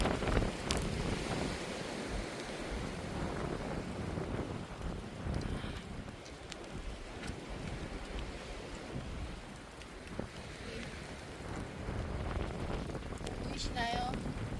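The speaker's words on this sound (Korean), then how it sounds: "지금 갑자기 우박 같은 눈이 내리고 있습니다. 엄청 퍼붓네요." Hail-like snow pouring down in a strong, storm-force wind on a ridge of Bukhansan mountain in mid-April, a continuous rough hiss and pelting roar with heavy wind buffeting on the microphone, steady throughout.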